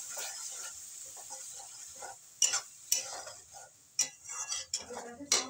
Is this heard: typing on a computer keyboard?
no